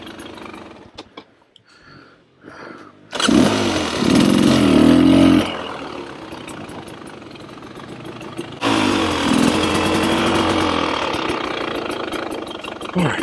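A dirt bike engine runs on single-track trail at an ATV park, with loud sustained revving bursts and throttle swells after a quieter start, continuing at a steady roar.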